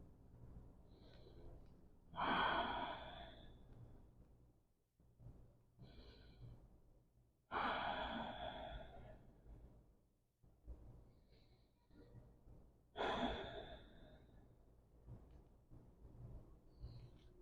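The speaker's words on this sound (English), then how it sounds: "take 3 deep breaths here." Three slow, deep breaths are taken during a yoga stretch with the forehead on the floor. Each one is a long, close, audible inhale and exhale, spaced several seconds apart in a quiet room.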